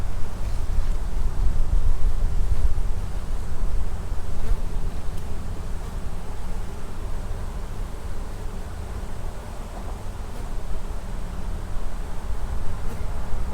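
Honey bees swarm around an open hive, a dense continuous drone of buzzing wings close by, steady and unbroken with no voices.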